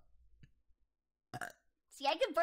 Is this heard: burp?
yes